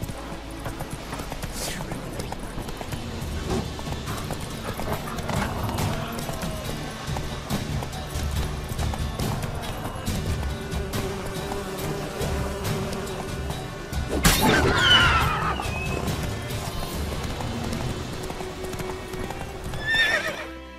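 A horse gallops in The Witcher 3, with a steady rapid clip-clop of hooves throughout, a whinny partway through and a voice speaking briefly over the hoofbeats.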